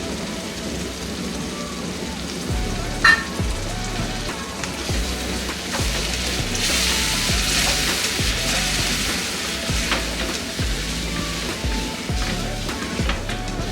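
Ingredients for masala poha (avalakki) frying in hot oil, a steady crackling hiss that sounds close and continuous like rain, with faint low rumbling underneath.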